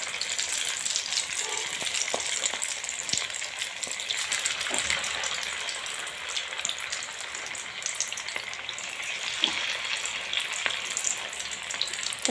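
Vegetable paneer pakoras fry in hot oil with a steady, dense sizzle and crackle close by, holding a constant level throughout with a few faint clinks, and no talking.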